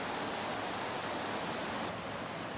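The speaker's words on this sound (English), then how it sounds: "It's really a nice waterfall." Steady broadband rush of a waterfall in the Otways, Victoria, continuous and fairly faint with no voices.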